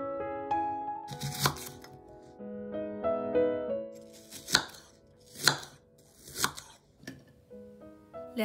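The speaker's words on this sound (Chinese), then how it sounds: "切点洋葱。" A knife chopping onion on a cutting board, with a handful of sharp, separate thuds spaced about a second apart, close and clear. Soft music plays underneath and nobody speaks.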